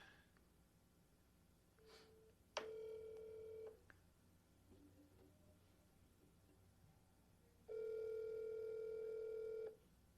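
A telephone call being placed, with a short burst of dialing tones followed by pauses and then a long, steady electronic ring tone, fairly clear over a quiet room background.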